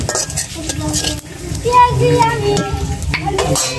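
Cumin seeds crackle and sizzle in hot oil in a wok, with stirring and pan clatter close by and faint voices in the background.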